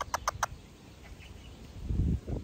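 A macaw at a zoo gives three quick, sharp squawks in a row, then goes quiet, leaving soft, low rustling and handling sounds near the end.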